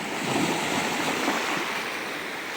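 Sea surf washes steadily on an Italian beach in hot summer weather, a broad close rushing wash of waves with some wind buffeting and no voices.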